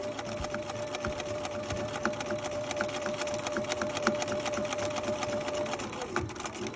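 A sewing machine back-stitches across fabric, a steady fast mechanical whirring hum with a rapid needle chatter, running continuously close by before slowing near the end.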